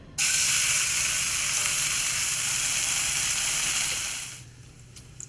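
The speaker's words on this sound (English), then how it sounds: "Next, we're gonna put our bacon in the pan here. This is with Cajun bacon." Two pieces of thick Cajun bacon frying in a pan, a steady loud sizzle that holds for about four seconds before tapering off into quiet.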